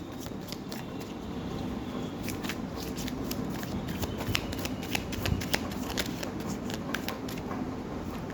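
Tarot cards are shuffled by hand in a continuous soft riffle and slide of the deck, close and steady throughout with sharper flicks here and there.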